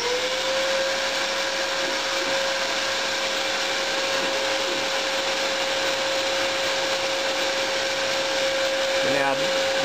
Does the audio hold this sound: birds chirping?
no